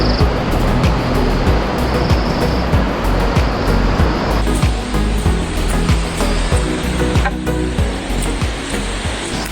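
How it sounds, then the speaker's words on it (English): A loud, continuous roar of rushing water from Asik-Asik Falls in the Philippines, close and unbroken, with faint clicks and knocks scattered through it and no talking. "Halfway through the trail, you can hear the rushing water"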